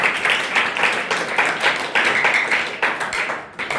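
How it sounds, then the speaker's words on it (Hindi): An audience at a theatre workshop gathering claps loudly to welcome a guest, a brisk, dense round of handclaps that tapers slightly toward the end. "उनका जोरदार ताली से स्वागत।"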